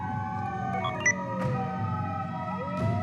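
Sirens of police cars, fire trucks and ambulances in the Anonymous;Code game, several wailing tones sliding up and down and overlapping at a steady, fairly loud level over a low city rumble, with no voices.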